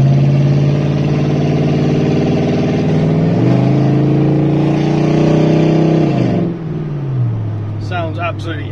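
Lexus LS400 1UZ-FE 4.0L V8 running with only the primary catalytic converters, a loud deep burble that revs up and settles, then drops back toward idle, with faint background sounds near the end.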